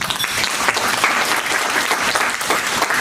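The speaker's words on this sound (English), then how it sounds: "So please give Caroline a warm round of applause and welcome." An audience at a mental health training presentation gives a warm round of applause for an incoming speaker, a loud dense burst of many hands clapping steadily, close and filling the room.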